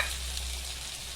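Ginger paste and garlic paste frying in a pan with onions already fried red, giving a steady, close, dense sizzle that holds evenly for a brief moment with no voices.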